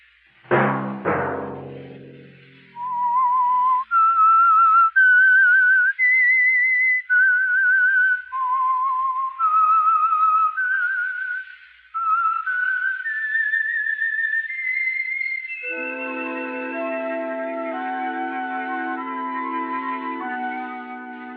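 Whistled theme signal of The Whistler radio program, a single clear whistler carrying a slow, echoing melody of sustained notes, followed by an orchestral phrase underneath.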